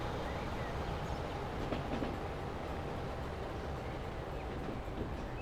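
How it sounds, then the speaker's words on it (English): Trains run on rails in the Transport Fever game, giving a steady rumbling roll with faint clickety-clack of wheels that stays even and continuous for several seconds, with no talking. "Look at all the freaking trains."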